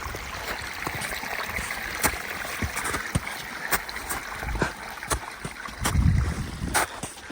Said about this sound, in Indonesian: Bener-bener air mengalir nih di bawahnya kita ini.